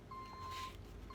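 A backing-up truck's reverse warning alarm beeps faintly from a distance outside, a thin steady tone repeating over a quiet room.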